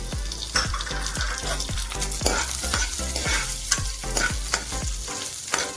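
Grated ginger and green chillies frying in hot oil for tomato saaru, a steady close sizzle broken by repeated stirring scrapes in an even rhythm.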